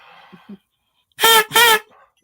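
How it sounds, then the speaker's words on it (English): Two loud, buzzy honks from a small horn with a metal reed, close up, each about a quarter second long, after a few faint soft noises. "But it honks. And it's got the reed inside of there, a metal reed."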